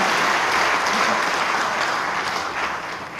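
Delegates at a church denominational general assembly give loud, unanimous applause, a thick burst of many hands clapping that holds steady and then begins to thin toward the end.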